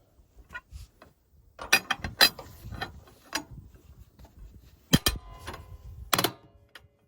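Large socket on a long snipe (breaker bar) working at a stuck ram bolt during depth adjustment: a string of sharp metallic clicks and clanks in uneven bursts, close and moderately loud, with quiet pauses between.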